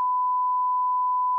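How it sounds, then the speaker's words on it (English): A phone ringing for an incoming call, heard as a single steady electronic tone held for over a second, clean and loud with no talk. "I'm getting a phone call."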